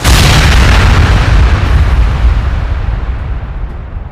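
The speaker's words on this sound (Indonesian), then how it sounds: "Ledakan besar terjadi yang membuat wilayah spasial bergetar dan menimbulkan gempa." A single huge explosion in a fantasy battle scene: a loud deep boom that starts at full force and rolls into a long rumbling decay, alone with no voices.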